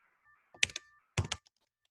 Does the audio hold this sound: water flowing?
no